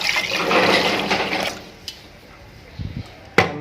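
Water is poured into a bowl of shells, a rushing splash for about a second and a half before it cuts off, followed by a few small clinks and knocks against the bowl.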